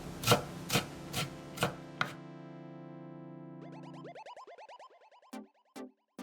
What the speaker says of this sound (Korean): 당근 4분의 1개는 이렇게 썰고 작게 잘라서 담기.